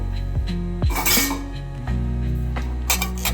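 Shelled peanuts and other ingredients drop into a steel mixer jar, several clinks and metallic knocks ringing out close by, with no one talking.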